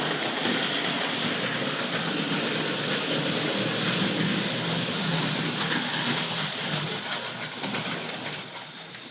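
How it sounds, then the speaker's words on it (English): A Hornby Dublo GWR 0-6-2 model tank locomotive runs on track, a close, continuous whirring rumble with faint clicking that fades slightly toward the end, with no talking. "ideally that'll turn the little tank locomotive around"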